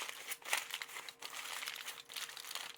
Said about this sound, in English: So what I've done is aligned me a pan up, clean pan here with some foil.